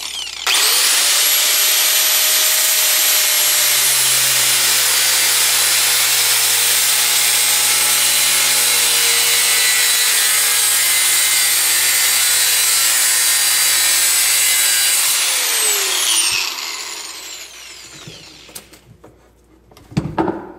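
Cutting a plastic lip off an RC tube cage clamped in a vise: a loud, continuous rasping cut runs steadily for about fifteen seconds, then stops, followed by a few small clunks.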